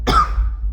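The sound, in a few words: man coughing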